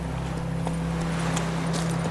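Roach the horse's hooves clip-clop in The Witcher 3, a light, steady walking patter of scattered clops over a constant low hum, with no voices.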